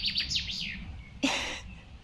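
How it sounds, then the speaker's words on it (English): A bird outdoors gives a quick run of high, bright chirps, then a single sharper call, faint and alone against a quiet background. "that bird really makes a soundtrack to your reading"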